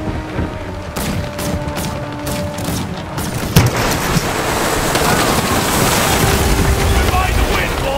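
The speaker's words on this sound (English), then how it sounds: "it suddenly switched over to cannon fire" Cannons fire a broadside from a ship in a naval video game: a quick run of sharp, heavy booms, then a continuous roar of wind and surging water.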